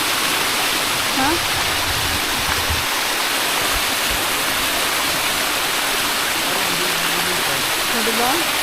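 Water pours steadily at a waterfall in Palawan, a loud, continuous broadband rush that fills the whole clip, with faint voices beneath it.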